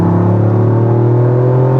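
Steady in-cabin drone from a GR Yaris fitted with an HKS Super Turbo Muffler exhaust, held around 3,500 RPM with a strong low hum and a continuous rumble throughout, close and loud with no talking.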